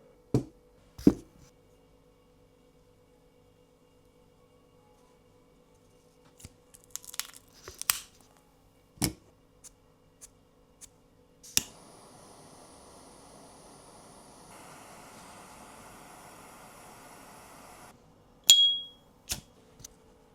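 A San Cristóbal de La Habana 20 Aniversario cigar being cut and lit: scattered sharp snips, clicks and crinkling, then a long steady hiss of a jet flame, ending in a short loud burst.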